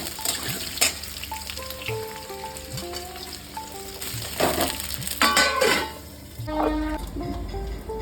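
Potatoes lightly frying in mustard oil for a Bengali chana and soya kofta curry, a close, steady sizzle with scattered crackles and a few faint clinks throughout, no voices.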